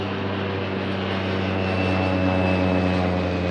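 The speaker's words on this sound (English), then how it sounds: "That float plane overhead is very loud." A float plane drones overhead, a loud continuous propeller engine hum holding steady and swelling slightly, with no talking.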